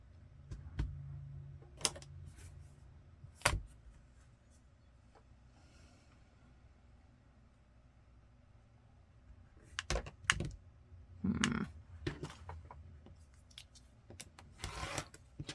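Scissors cut excess material from a miniature junk journal dress. Clusters of quick, crisp snips come at the start and again near the end, close and moderately loud, with a quiet stretch between.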